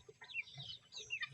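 Darag and Bengala chickens cluck softly beside a concrete pond on a farm, giving a quiet, scattered run of short calls with no talking over them.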